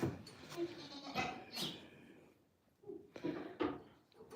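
Goats on a farm bleat several times before feeding, the wavering calls arriving in separate bursts from nearby, with faint shuffling and knocking between them.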